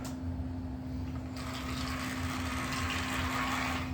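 A Tyco or Pemco HO scale model locomotive runs rumbly along its track, a steady close motor hum with a faint whine that grows into a louder, rougher rattling drone.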